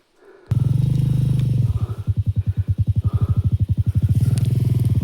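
A motorcycle engine starts up close by, then settles into a loud, pulsing idle with a steady rhythmic putter.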